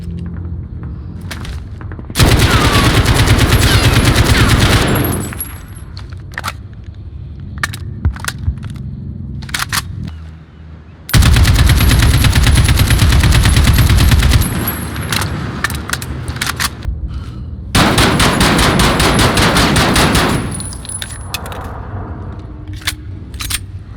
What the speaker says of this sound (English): This is reflected in how she reloads her gun.